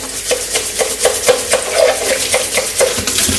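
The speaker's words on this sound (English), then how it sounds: "Put the brush inside." Inside a baby bottle, a brush scrubs in quick rhythmic strokes, making repeated close, bright swishing scrapes about every quarter second.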